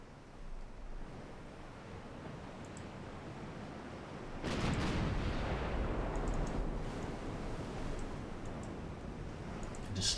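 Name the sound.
warship artillery firing in Ultimate Admiral Dreadnoughts video game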